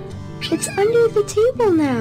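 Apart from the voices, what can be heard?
cat meowing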